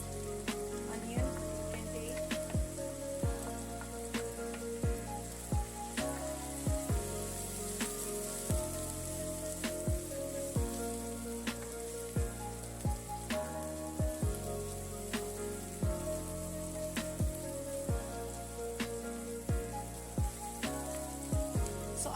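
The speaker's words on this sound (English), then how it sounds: "So I'll wait for the onions to fry" Chopped onions frying in five to six tablespoons of oil, a steady dense sizzle throughout with repeated short scraping stirs and faint background hum.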